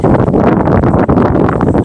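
Strong wind beside a river under a cloudy sky roars loudly and continuously into the microphone as a dense, buffeting rumble with no pauses.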